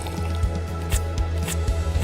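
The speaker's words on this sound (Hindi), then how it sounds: "उबलता गर्म पानी।" Boiling hot water pours and drips in a steady stream, with repeated soft splashes and drips at an even pace, close and fairly loud with no talking.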